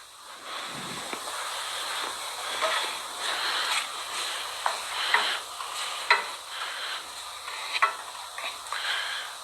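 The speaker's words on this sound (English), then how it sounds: "Bacon's still rendering out" Bacon rendering in a pan gives off a steady, fairly quiet crackling sizzle, with small pops and spits scattered through it and no talking. Pasta water is boiling nearby.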